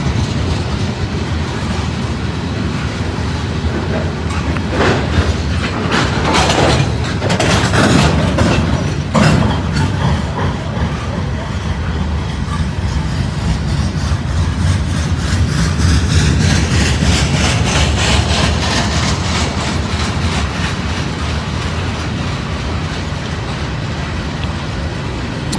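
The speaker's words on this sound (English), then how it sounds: "This first train of the morning, it's about 28 degrees." A freight train rumbles past close by, heavy engine drone and steady clatter of wagons on the rails, loud and continuous throughout.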